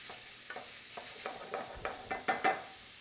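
Bacon crisping in a pan with about a tablespoon of olive oil for carbonara gives a steady sizzle, broken by a run of short scraping stirs that grow louder toward the end.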